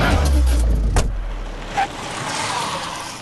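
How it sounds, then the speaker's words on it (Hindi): A car pulls out and drives off: a low engine rumble and a thud near the start, then the motor fading into road noise as it moves away. "चलो गाड़ी निकाल।"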